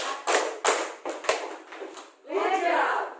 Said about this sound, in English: let's give a good job clap for the yellow team group